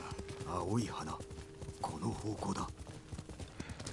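In the video game Ghost of Tsushima, a horse's hooves clip-clop rhythmically at a gallop beneath someone talking over it, with the steady game ambience underneath.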